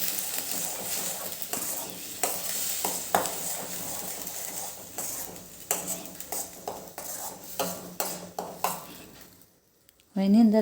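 Cashew garlic paste stirred into sautéed ingredients in a pan, with a steady scraping and clinking of a spoon against metal and a faint sizzle, close and moderately loud, ending in a short burst of louder noise.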